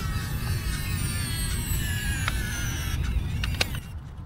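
A homemade transforming car folds back into driving mode with a steady mechanical whine from electric motors and actuators over a low rumble, pitch sliding through several runs and a few clunks near the end. No voices.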